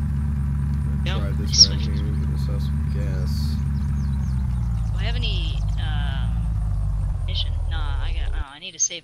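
A car engine idles and runs with a steady low rumble in the survival game Unturned, continuous under other game sounds and brief effects, cutting off near the end.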